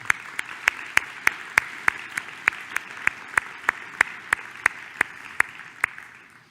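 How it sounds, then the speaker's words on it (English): An audience at a presidential address claps in a steady, evenly spaced beat, about three claps a second, loud and sharp against a low murmur of room noise, with no talking over it. "let's give him a round of applause"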